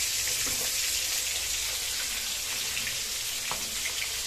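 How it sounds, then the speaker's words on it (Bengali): Tilapia fish frying in hot oil, a loud dense continuous sizzle and crackle heard close up with no talking. "আমাদের এখানে মাছটা ভাজা হচ্ছে"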